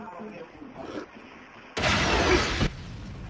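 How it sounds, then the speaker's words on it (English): A firework launched in the video game Ghost Warriors: a sudden loud, hissing rush that lasts just under a second after some quiet talking, then cuts off abruptly. "I'm gonna just do a fireworks again."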